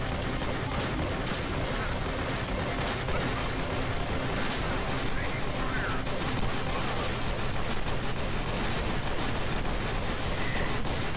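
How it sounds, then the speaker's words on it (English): Dense, relentless gunfire pours bullets at a tank in Rambo: Kickass Commando, a loud unbroken barrage of overlapping shots and blasts throughout. "I'm destroying this tank with bullets"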